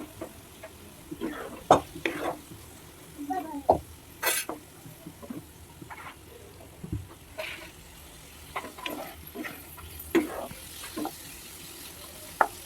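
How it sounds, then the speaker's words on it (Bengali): Hog plum chutney with turmeric, chili powder and salt frying in a pan, stirred with a utensil: irregular scraping and tapping strokes over a low, steady sizzle, fairly close and moderate in volume. "এটাকে দু তিন মিনিট ভেজে নেব নাড়াচাড়া করে ভেজে নেব যাতে নিচে না লেগে যায়"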